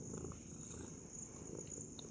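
A cat that has been bitten by another cat purrs softly and steadily up close, a faint continuous rumble with no other sounds over it.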